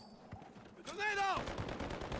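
Hardcore multiplayer match in Modern Warfare III with bursts of game gunfire, a dense rapid volley starting midway and continuing to the end, near and fairly loud, with a sliding tonal effect layered over it.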